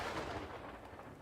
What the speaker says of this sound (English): Boom. Lightning.